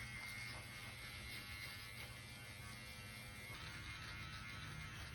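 A Manscaped 4.0 electric body hair trimmer buzzes steadily, a faint, continuous high-pitched motor whine with slight shifts in tone as it moves across skin, alone without speech.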